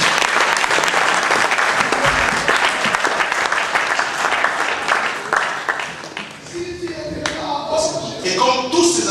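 Church congregation applauding during a French-language spiritual combat prayer service, dense steady clapping throughout that thins slightly toward the end as voices and singing tones emerge over it.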